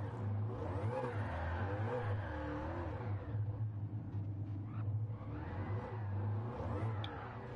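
A car engine in Gran Turismo 7, revving and whirring through rising and falling pitch sweeps while drifting and spinning out, a steady mid-level engine drone running throughout with no talk over it.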